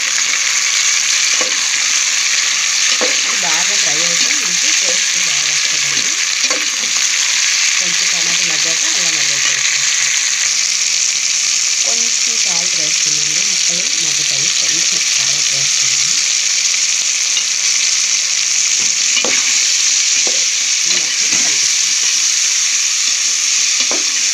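Tomatoes fry and are stirred in a pan for a vegetable biryani: a continuous loud sizzle with repeated scraping stir strokes. A voice speaks intermittently over it.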